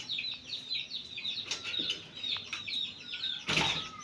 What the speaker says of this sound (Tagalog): Siyapan na ng sisiyo.